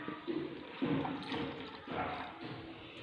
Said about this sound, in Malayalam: ബാക്കി പാൽ കൂടെ നമുക്ക് ഇതിനകത്തേക്ക് ഒഴിക്കാം